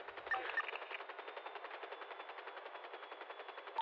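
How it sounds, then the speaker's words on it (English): Rapid automatic gunfire in GTA V aimed at a helicopter, a steady fast rattle of shots that runs unbroken and fairly quiet through the whole stretch, with no voices over it. "He's shooting at us."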